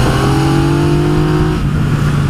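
Yamaha XSR900 motorcycle engine pulling hard under acceleration, a loud, close, continuous drone with steady harmonic tones that shift near the end as the revs change.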